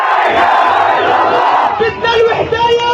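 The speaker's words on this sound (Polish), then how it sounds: "gdy na ulicach tłum przysięga zemstę" A street crowd in Nablus chants and shouts loudly together, swearing revenge, a dense roar of many voices close by with no pause.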